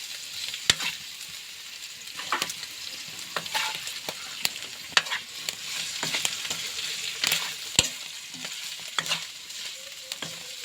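Smoked bullet tuna (tinapang tulingan) being sautéed in a pan over a wood fire, with a steady sizzle and scattered sharp clinks and scrapes of stirring, heard close up with no talking.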